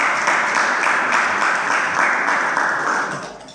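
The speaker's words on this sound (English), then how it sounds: "I think we should clap there." An audience at a student association manifesto presentation breaks into steady applause, a loud, even wash of clapping that fades out toward the end.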